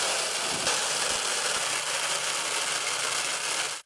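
Tractor engine running in a Nebraska cornfield during planting, a loud, steady mechanical drone with rattling machinery, close and continuous before cutting off abruptly at the end.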